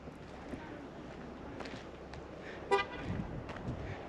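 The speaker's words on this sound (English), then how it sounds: "Ooh, somebody honked at me." A single short car horn toot sounds at a distance at Sunset Crater Volcano National Monument, standing out briefly above faint outdoor background noise and soft footsteps.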